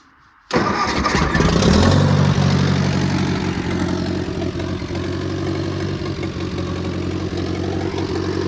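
A half-track vehicle's engine cranks and fires up after near silence, then settles into a steady, loud, close idle with a low rumbling drone, in a snowy outdoor setting.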